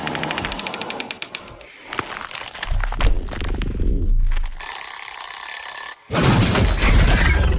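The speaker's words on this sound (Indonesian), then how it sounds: "Rupanya Imas menjadikan sebuah alarm jam untuk mengalihkan perhatian si monster" An alarm clock in a film rings in short rattling bursts, starting and stopping several times amid other clattering, with a steady electronic tone cutting in partway through.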